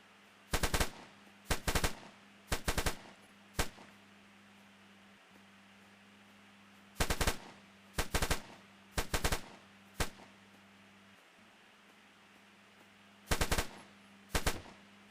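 An AK firing in the video game Survive and Rise, with short sharp automatic bursts repeating in clusters over a steady fan-like hum, loud and close with gaps of quiet between volleys.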